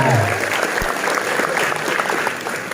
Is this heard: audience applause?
yes